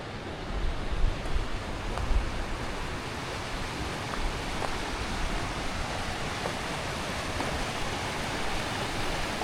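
Steady, dense rush of the Red River flowing in the Rio Grande Gorge, a constant broadband roar with no pauses and no voices.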